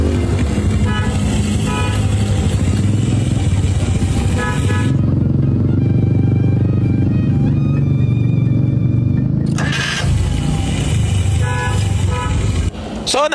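A motorcycle fitted with a new starter fires up and keeps running, its loud engine churning close by with a brief horn-like toot, while people talk over it.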